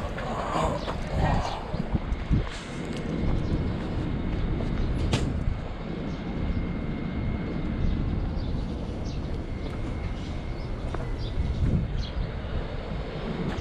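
A Naruto-themed train rumbles past near Lake Kawaguchi by Mount Fuji, a steady close rolling roar with track clatter that carries throughout, with brief distant voices underneath.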